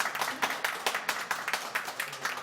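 Audience members clapping at a Toronto community council meeting, a scattered modest round of hand claps in an indoor chamber, moderately distant and fairly soft, without speech over it.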